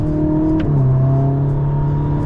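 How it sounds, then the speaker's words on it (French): A tuned Ferrari SF90 hybrid supercar engine hums and revs steadily at close range, its pitch dropping briefly and settling as a gear shifts, with a continuous droning tone and no talking. "ce que moi je trouve ouf, ça reste les boîtes de vitesse. T'as vu, t'appuies."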